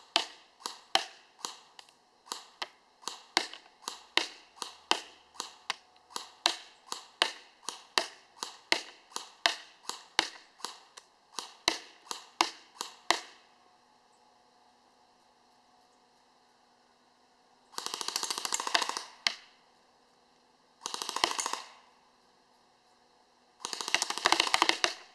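An ARES Amoeba S-Class M4 airsoft gun fires 0.25 g BBs in a quick run of sharp, evenly spaced cracks, one shot after another. Then, after a quiet stretch with a faint hum, three short bursts of hissing noise follow.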